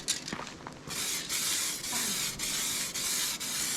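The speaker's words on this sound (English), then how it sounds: "So I'm going to give this section a third coat before we move into the clear coat." A spray can lays a third coat of paint on a car bumper in several long, steady hissing bursts with short breaks between them, fairly quiet and close, with no talk.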